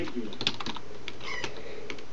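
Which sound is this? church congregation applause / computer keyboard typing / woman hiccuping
computer keyboard typing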